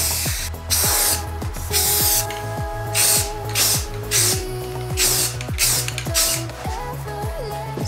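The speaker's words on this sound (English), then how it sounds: "Let's get spraying." Deep blue spray paint hisses from an aerosol can in a string of short and longer bursts, close and loud, with rattling and clicking of the can between sprays.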